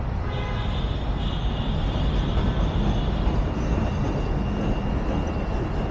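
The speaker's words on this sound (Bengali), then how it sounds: "ট্রেন কাছাকাছি চলে আসছে, হর্নের আওয়াজ আমরা ইতিমধ্যে শুনতে পেরেছি" A loud, continuous rumble of a train passing a railway level crossing fills the scene, broad and steady throughout, with a faint high tone hanging above it.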